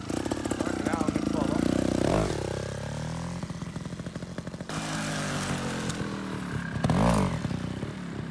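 A trail motorcycle rides through muddy moto-trails terrain, its engine revving and surging with shifts in pitch, loud and near, while people talk over the engine noise.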